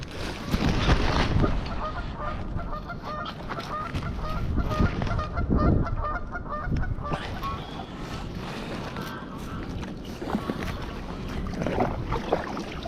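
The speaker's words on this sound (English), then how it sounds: "Here we have some swans." Swans honk and call repeatedly from the water during winter wind around a light inflatable kayak, the cries fairly close amid gusty noise and paddling sounds, with occasional talk.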